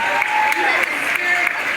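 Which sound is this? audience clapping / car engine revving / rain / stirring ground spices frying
audience clapping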